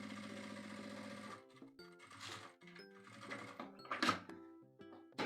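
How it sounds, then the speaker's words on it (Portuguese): A sewing machine stitches a topstitched seam through fabric and lining on a pencil case, a fast, close mechanical whir running in short bursts with pauses and small clicks and clunks between, quiet overall and without talking. "eu vou ajeitando e costurando"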